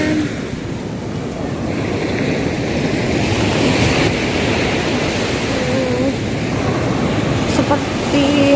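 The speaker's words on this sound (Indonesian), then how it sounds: "cuma emang ombaknya lebih gede di sini" Surf rolls in steadily on the beach at Teluk Asmara in Malang, a loud, continuous wash of waves with wind buffeting the microphone.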